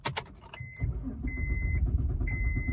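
A car engine idles steadily in a low, even rumble at a dealer-only auto auction. A brief jangle of keys comes first, and a thin electronic chime beeps on and off over the running engine.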